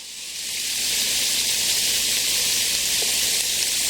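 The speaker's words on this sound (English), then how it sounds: "It's sizzling so much." Loud, steady sizzling of food frying in a pan, a dense hiss that swells in the first second and then holds constant.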